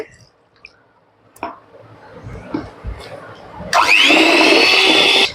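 Quiet handling clicks and light knocks give way to a blender that kicks in abruptly near the end, roaring loud and steady with a high whine as it beats watermelon juice into a condensed-milk ice cream mix.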